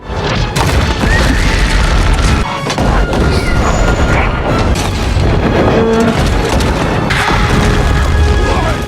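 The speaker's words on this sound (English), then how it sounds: "The battle commenced with Ents launching the first salvo using catapults." Catapult salvos crash during a Lord of the Rings battle between Ents and a fortress, producing loud, dense booms and smashing impacts that roll almost without a break, heavy and close.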